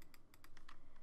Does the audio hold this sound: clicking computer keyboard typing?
yes